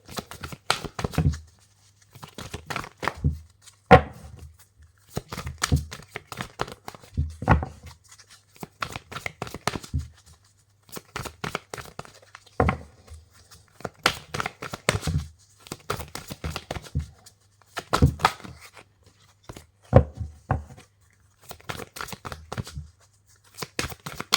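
Tarot cards are shuffled by hand in repeated bursts, crisp riffling and slapping rustles with short pauses between, close and dry, without talking.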